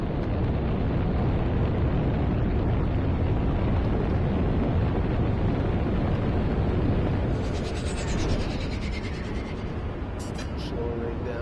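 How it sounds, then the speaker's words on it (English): A ship's pulse drive kicks in during No Man's Sky, a dense, loud, continuous roaring rumble like rushing wind that fills the whole span, with faint tonal sweeps appearing near the end. "let's just kick on the pulse drive"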